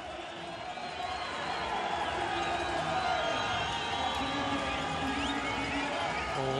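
Large crowd cheering and roaring at a canoe slalom world championship finish line in Pau, France, a steady loud swell of voices and whoops under an announcer's commentary.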